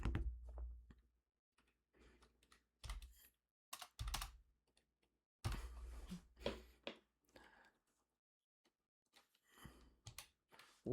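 Computer keyboard being typed on right beside the microphone, with bursts of close, crisp key clicks in irregular clusters separated by short pauses, fairly loud against a quiet room.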